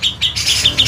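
Caged songbirds sing in a small bird shop, a steady run of bright, high chirps and trills close by, with several repeated calls overlapping and no one talking.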